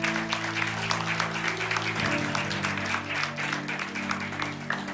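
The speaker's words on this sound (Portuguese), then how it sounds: "Aplausos ao nome do Senhor." Applause from a church congregation at the close of a sermon, steady crowd clapping over a sustained organ-like tone that shifts partway through.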